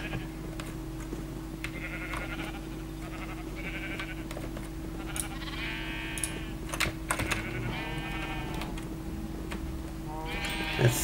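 Sheep in Minecraft give a series of bleats, some overlapping, with computer keyboard clicks and soft clatter mixed in over a low constant hum.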